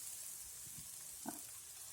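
Mustard seeds splutter in hot oil in a home kitchen pan, a faint steady sizzle with a few soft pops and crackles rising briefly.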